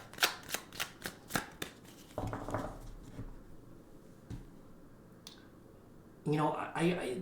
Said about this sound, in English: Let's just give it a few more shuffles here.